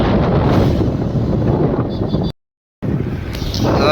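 Wind blowing hard over a microphone in a vehicle traveling a rough road in Nepal, a loud continuous rumble with a brief dropout partway through.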